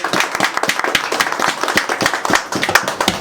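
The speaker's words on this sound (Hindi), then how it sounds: "तो एक बार जोरदार तालियां पहले।" A large audience at a KAB Films India event in Mumbai claps loudly and continuously, dense overlapping hand claps filling the whole moment with no talk.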